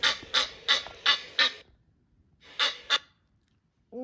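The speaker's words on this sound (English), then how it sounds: "Egyptian goose." Egyptian goose calling, a rapid series of five harsh honking notes, then a pause and two more honks, loud and close with no other sound around them.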